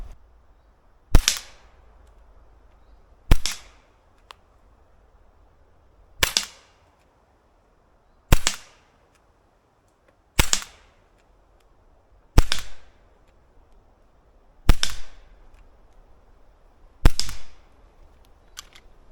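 Eight sharp, snappy shots from an Umarex Glock 17 CO2 air pistol at a paper target, fired one at a time, evenly spaced about two seconds apart, each a crisp crack with quiet gaps between.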